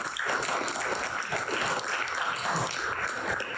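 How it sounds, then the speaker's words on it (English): An audience at a tech talk claps steadily throughout, a dense even wash of applause without pauses. "A little bit of applause."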